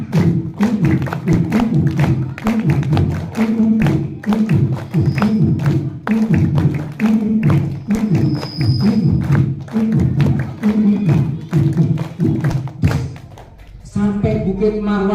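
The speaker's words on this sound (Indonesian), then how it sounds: "Sambil tepuk biar semangat." Children in an Islamic kindergarten storytelling session clap together in a steady, loud rhythm, beat after beat, with a voice talking over the clapping.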